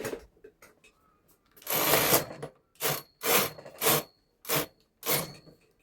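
A knitting machine carriage swept back and forth while knitting a newborn's Christmas dress, giving six loud rasping passes in a rough rhythm with small clicks between, close up.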